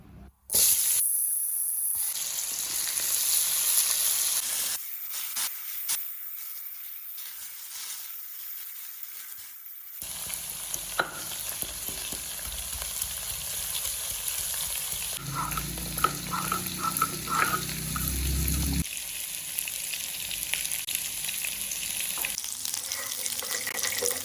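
Potatoes and cumin fry in a pan with a continuous sizzling hiss, broken by stirring and shifting bursts as ingredients are moved and added, close and steady throughout.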